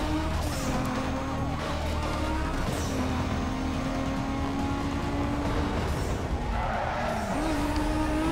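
A car in Need for Speed Most Wanted (2005) drives hard and accelerates, its engine droning with rising and falling pitch, tires skidding and squealing under steady, loud in-game road noise.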